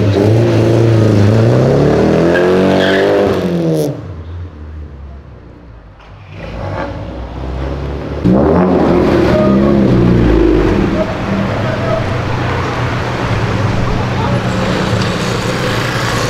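A Subaru car revs and accelerates hard, its engine rising in loud, close sweeps, then a sharp burst and renewed roar as it backfires flames, with traffic noise and voices talking over parts of it.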